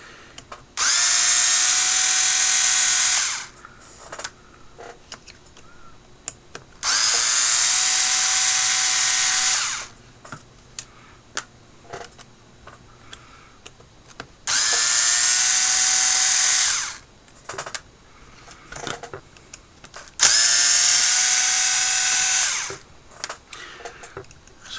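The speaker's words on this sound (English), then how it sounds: "First, we're removing the link bolts, upper and lower link screws, and then the two screws for the side of the skid plate" Power drill removing link bolts and screws from a CEN B50 RC truck's links and skid plate, running in four steady high-pitched bursts of about three seconds each, separated by quieter pauses with small handling clicks.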